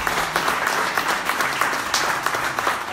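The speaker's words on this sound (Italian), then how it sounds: "quindi faccio io un applauso a Filippo." Applause from an audience at an Italian book presentation, a steady dense patter of many hands clapping that holds throughout, with no talk over it.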